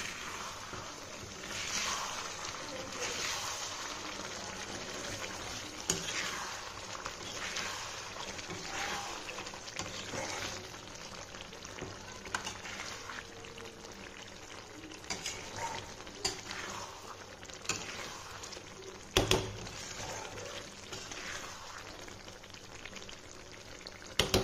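Chicken pieces cooking in a pan for Hyderabadi chicken gravy, giving a steady broadband sizzle throughout with occasional stirring scrapes and a sharper clatter near the end.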